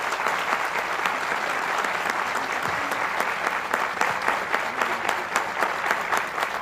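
Sustained audience applause for a central banker at a lecture event, dense even clapping filling the hall from start to finish.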